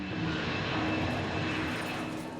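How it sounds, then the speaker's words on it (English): A KLM airliner from Amsterdam roars overhead on final approach to land at a Yorkshire airport, a loud continuous engine rumble that stays steady and fades slightly at the end. "the aircraft from Amsterdam carrying the medical emergency is making its final approach"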